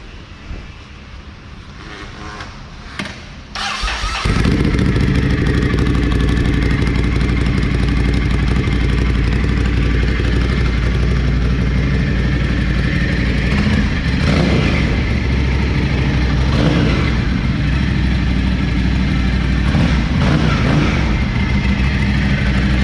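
A Ducati Scrambler motorcycle engine fires up after a few seconds of quiet handling noise, then runs loud and close with a steady idle and occasional revs, continuing without a break.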